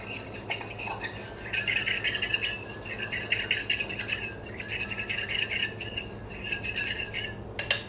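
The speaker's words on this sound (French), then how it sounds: "Donc vous mélangez donc la fécule" A utensil stirs potato starch into cold water in a bowl, giving steady scraping and clinking against the dish in quick repeated strokes, close and continuous for several seconds.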